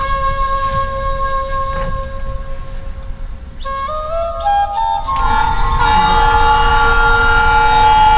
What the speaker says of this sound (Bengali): দোস্ত ট্রেন আসতেছে